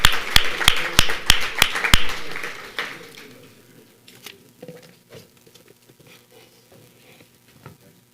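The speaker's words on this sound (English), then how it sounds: "can we welcome the panel up with a round of applause" Applause from an audience welcoming a panel onto the stage at a business and investment summit, a burst of claps over the first two seconds that thins into scattered taps and fades out.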